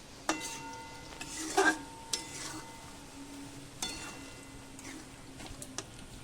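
Chicken with tomato sauce and yogurt being stirred and browned in a pan for a Bengali chicken and jackfruit curry: sparse scraping clicks and taps of a utensil against the pan, with a few louder knocks, no talking.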